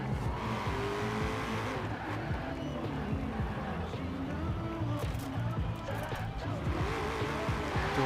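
A car launching off the line in the racing video game Forza Horizon 4, with a steady, loud engine roar and tire noise that stays dense and continuous throughout.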